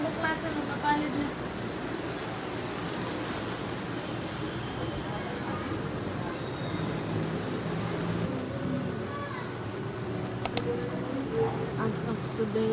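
Light typhoon rain falls steadily, a continuous dense patter and hiss on surfaces close by that runs the full length with no letup, a few sharper drips breaking through near the end.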